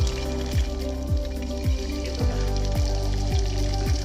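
Village-style fish pieces sizzle steadily in hot oil, with a loud, continuous frying crackle and a regular series of sharp taps or drops roughly every half second, and no voices.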